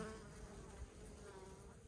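Honey bees hum steadily around an open hive, a close, continuous buzzing drone with a soft wavering pitch, heard alone with no voices.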